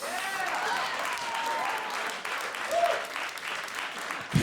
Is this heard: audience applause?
yes